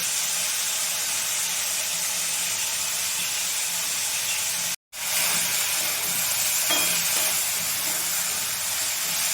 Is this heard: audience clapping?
no